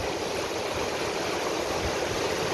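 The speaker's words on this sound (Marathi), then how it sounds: "नदीत सध्या दुथडी भरून वाहू लागली आहे" The swollen Krishna river in Sangli runs in full spate after continuous monsoon rain, giving a steady, dense rushing roar of moving water that holds even and unbroken throughout, with no voices over it.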